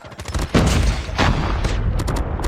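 Rapid P90 submachine gun hip-fire in COD Mobile, a dense stream of loud close shots running continuously with a sharp onset after a brief opening, no talk.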